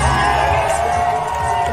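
A crowd shouts and cheers in a loud, dense, continuous mass of voices during a PBA Moto Club gathering in Canada, with no pauses.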